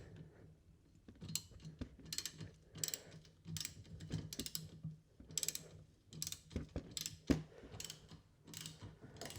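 A ratchet socket wrench clicks in quick bursts of rapid ratcheting as it tightens a fitting during a carbon fibre roof and trim refit, close and fairly quiet with no talking.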